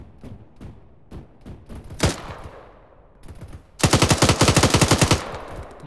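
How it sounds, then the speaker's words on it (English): Automatic gunfire from an enemy crewman in a combat video game, starting as scattered single shots and short bursts, then a loud, rapid sustained burst near the end. "There's a crewman shooting at us."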